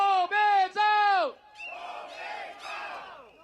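A political rally crowd shouts a chant in unison, three loud, tightly synchronized bursts of voices followed by looser, more scattered cheering and calls.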